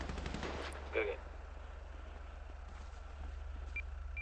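Gunfire crackles in rapid bursts during a turf war fight in the Xlantis City roleplay video game, fairly quiet under steady background noise, with players talking.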